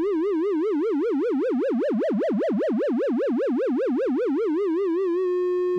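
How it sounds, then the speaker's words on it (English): A steady analogue monophonic synthesizer (Kitten II) sine wave warbles up and down in a fast, even vibrato for about five seconds, then settles into a flat, sustained pitch. No voices. "Now let's go to a sine wave,"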